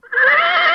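A single loud, close horse whinny rises quickly and holds for just under a second, standing alone with no talk.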